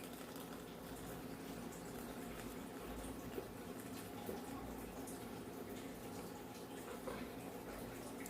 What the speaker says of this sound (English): literally just pour all the hot milk in there